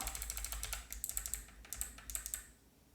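Fast, crisp clacking of computer keys as a short command is typed at an MS-DOS 6.22 prompt, a quick run of close keystrokes that stops near the end.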